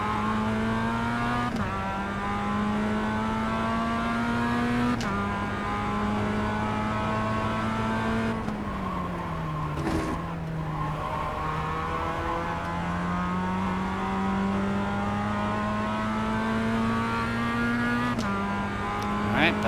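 A Mazda MX-5 race car lapping Oulton Park, heard from onboard: a steady, close engine drone that rises and falls through several gear changes and braking points, with no break in the engine sound.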